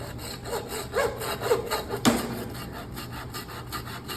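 A handsaw rasps back and forth through pork bone in steady strokes, close and fairly loud, with a sharp crack partway through.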